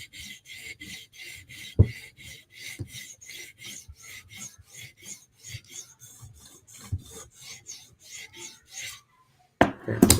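A knife blade is drawn across a sharpening stone in about two dozen even, rhythmic rasping strokes, each a short scratch worked along the edge. The strokes are close and clear, with a couple of sharp knocks near the start and the end.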